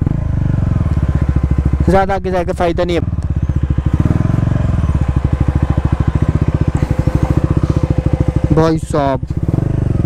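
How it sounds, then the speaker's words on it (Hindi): A modified KTM Duke 390 runs close by off-road with a loud, steady thumping engine note and brief revving rises, while someone talks over it. "तेज़ से टर्न कर लेते हैं बाइक को"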